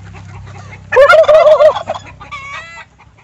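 Turkeys gobble loudly and close by in one rapid, warbling burst, followed by a softer second call.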